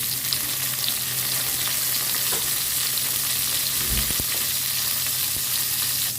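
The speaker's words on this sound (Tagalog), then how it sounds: "Igisa natin ang onion at garlic. Ilagay natin ang kamatis." Onion, garlic and tomato sauté in a pan for a side of long beans with shrimp, giving a dense, continuous sizzle with a few faint utensil knocks and scrapes.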